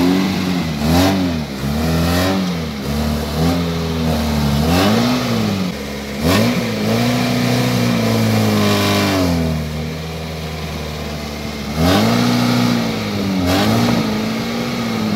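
An off-road car stuck in mud revs hard again and again, its mid-pitched engine rising and falling in repeated surges, loud and close, with a short pause between bursts.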